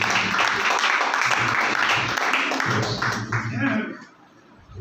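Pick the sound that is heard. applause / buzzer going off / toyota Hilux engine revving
applause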